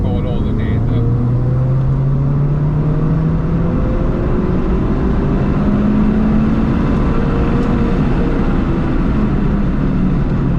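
A new car engine under full throttle on a test drive, a steady loud drone with rising and falling harmonic sweeps as it pulls through the revs, continuous for about ten seconds.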